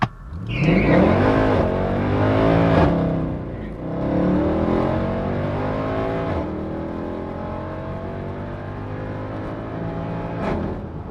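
A high-mileage Mercedes C63 AMG revs hard and loud at a drag strip with tires spinning, traction control off, pitch sweeping up through gears, then settling into a sustained roar before a brief final rev.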